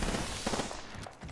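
A rapid burst of automatic gunfire in the video game Apex Legends, dense and continuous before briefly breaking off and resuming.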